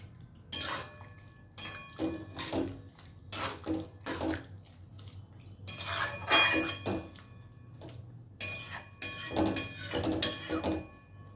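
Ash gourd curry ingredients stirred and mixed with a splash of bowl-rinsing water, repeated wet clinking and scraping strokes of a utensil against the bowl in close, uneven bursts.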